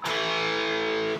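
A single distorted electric guitar inverted power chord rings out, thick and sustained for about a second before cutting off.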